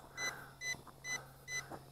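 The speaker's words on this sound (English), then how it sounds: "We're waiting for the beeping to slow down, and it'll do an automatic return to home." An Attop W9 GPS camera drone's low-battery warning beeps in quick bursts, about five short tone pulses at an even pace, faint and alone.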